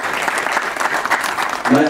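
An audience claps steadily throughout at a Nepal Evening event celebrating a Visit Nepal Year 2020 ambassador, with voices mixed in and a brief louder burst near the end.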